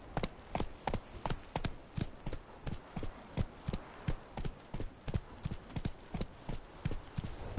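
The horse Roach gallops in The Witcher 3, its hooves striking in a steady, rapid clip-clop rhythm that stays near and even from start to finish.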